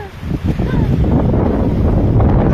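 Strong wind at Laguna Lake roars and buffets the microphone continuously, a loud low rumble with no voices over it.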